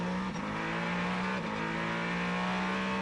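Porsche 963 prototype race cars accelerate out of the Le Mans pit lane during the 2025 race, a steady, loud engine drone with a strong low hum rising slightly in pitch, heard continuously with no voices.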